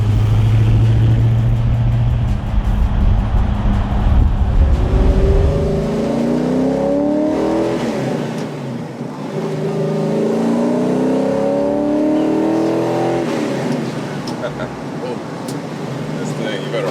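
A Dodge Charger R/T restomod with a 426 stroker V8 accelerating hard, deep engine roar rising in pitch through long revving pulls, close and loud under speech from people inside the car.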